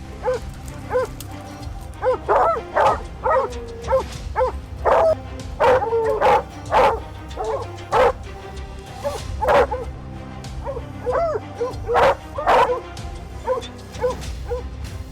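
Several hunting dogs barking and yipping in irregular bursts, fairly close, with occasional whimpers mixed among the barks.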